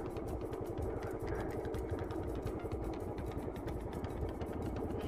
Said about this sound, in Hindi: दूसरी बाइक भी आ रही है